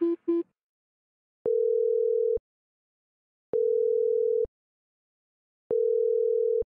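Three steady single-tone telephone beeps, each about a second long with gaps between, follow a brief electronic blip as a call connects toward a voicemail box.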